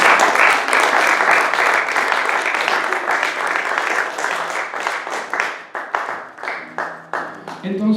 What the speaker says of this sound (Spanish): ¿Por qué no das un aplauso al Rey?